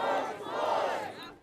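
Huge crowd of tens of thousands of protesters gathered outside Houston City Hall, a dense, continuous roar of many voices shouting together, loud and sustained throughout.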